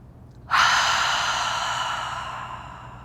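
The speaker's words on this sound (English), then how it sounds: "Fully exhale, check the position of the chin, give yourself a cleansing breath." A long cleansing exhale during a gentle yoga session, starting abruptly after a moment of quiet and fading slowly as a close, breathy rush of air.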